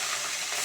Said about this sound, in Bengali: আমার বোনের বাড়ি এসে আমি এখন মাছ ভাজছি